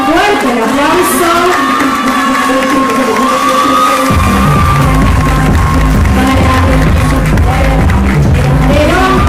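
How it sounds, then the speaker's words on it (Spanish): Crowd at a cultural ambassadors election in Villa Ángela cheers, whoops and yells loudly for the newly crowned ambassador, a dense roar with shouting and a strong music-like tonal layer that swells midway. "Fuerte el aplauso"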